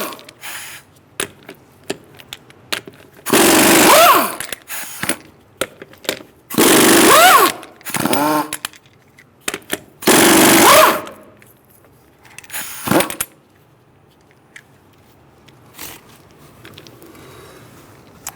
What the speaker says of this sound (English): I'm going to use a 19mm socket to take the lug nuts off the rear wheel